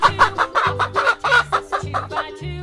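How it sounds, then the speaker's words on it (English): A chicken clucks in a quick repeating series of about nine short, close, loud pulses with an even rhythm, heard alone without any talking. "Chicken."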